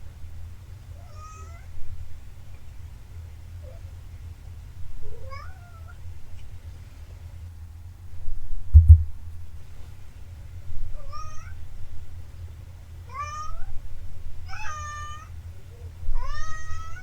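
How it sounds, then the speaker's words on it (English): A cat gives a series of long, plaintive meows while wanting to leave a bedroom at night, the cries spaced out and growing more frequent toward the end over a low steady room hum. "the most pitiful meows I have ever heard"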